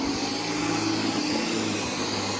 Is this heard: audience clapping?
no